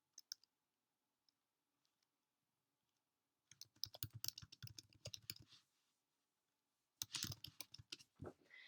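Keys on a computer keyboard click in a few sparse taps, then in two quick bursts of close typing separated by a pause. The sound is quiet, with no voices.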